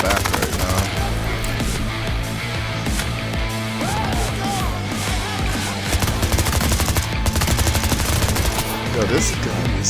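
Rapid automatic gunfire from a weapon in the video game Payday 3 rattles loud and continuous over layered game sounds and music, with a player's voice talking over it.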